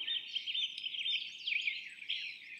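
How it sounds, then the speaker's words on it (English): Birds chirping outdoors in spring, a faint continuous stream of high twittering calls with no other sounds. "the outdoors were filled with the sounds of chirping birds"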